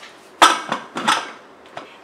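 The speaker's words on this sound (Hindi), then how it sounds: "अब हम प्रेशर कुकर का ढक्कन बंद कर देंगे।" A few sharp metallic clanks and clicks as a pressure cooker lid is set and locked in place, close up, followed by quieter taps.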